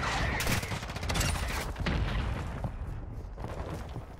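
A mortar blast and heavy gunfire rip through a Call of Duty Modern Warfare 2 battle, with loud booming bursts and rattling shots overlapping, then fading into scattered crackles.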